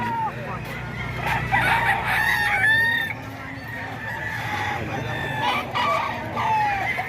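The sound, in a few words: large chicken, rooster crowing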